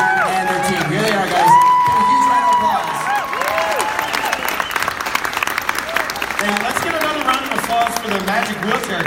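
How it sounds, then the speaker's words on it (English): An audience at a Salt Lake Comic Con 2017 press conference breaks into loud, sustained applause for air force officers, the dense clapping running the full length with cheering and voices over it. "Give a huge round of applause."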